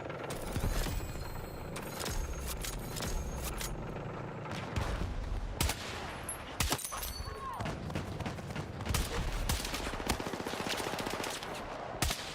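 Rapid, repeated DMR rifle shots in the video game Battlefield 6, loud and close, firing in bursts and spaced single shots across the stretch over constant game noise, with occasional talk.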